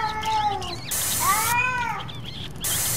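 A cat in the horror video game Erie meows twice, drawn-out and close, with a pause between calls and no talk.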